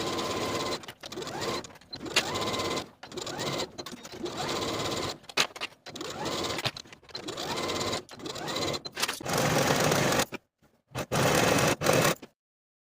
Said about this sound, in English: Sew each side seam with a 3/8 inch seam allowance and finish the raw edges.